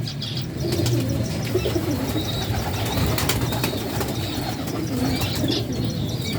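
Pigeons coo softly and steadily close by, with occasional wing flaps and light chirps mixed into a busy, continuous flock sound.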